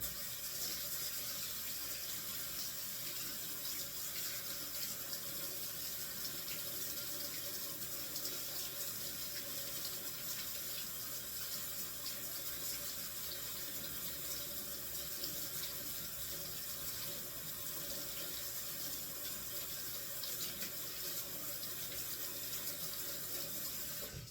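A kitchen tap runs in a steady, close rush of water for over twenty seconds as hands are rinsed beneath it during cooking, with no talking.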